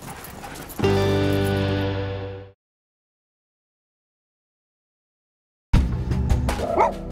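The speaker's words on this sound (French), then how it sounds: "les chiens ils rivalisent pour essayer d'arriver au plus vite au bout de ces 80 km." Sled dogs out on an 80 km training run, a sustained harmonic howling and barking chorus that cuts to total silence, then comes back as busy noisy activity with scattered yelps.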